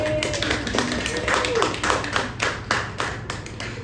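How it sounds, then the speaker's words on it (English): Applause for Pele, a steady patter of hand claps from a small gathering, fairly close and continuous, with voices talking over it. "big round of applause for Pele"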